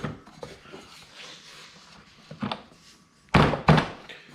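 The door of a Power Wheels Gator build swings shut: two firm, close thunks land near the end, after a few quieter knocks and handling sounds. No one speaks.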